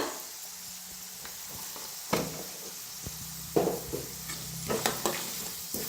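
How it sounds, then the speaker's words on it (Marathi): Masala roasting in a pan, a soft continuous sizzle broken by several sharp knocks and scrapes of a spoon against the pan, close and fairly quiet. "इकडे मसाला बी आपला छान भाजायला लागलेला आहे"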